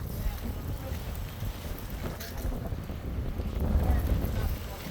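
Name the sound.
wind blowing during an ice storm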